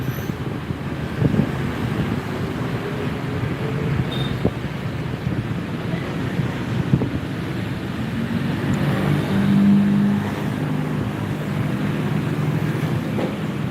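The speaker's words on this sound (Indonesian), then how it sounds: "Tuh, truk kuningnya mutar tuh." A yellow sand truck drives past and turns, its engine a steady low rumble mixed with outdoor wind noise throughout, swelling slightly near the middle.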